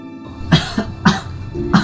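A person coughs three times in a row, harsh and close, each cough sharp and separated by about half a second, over faint background hum.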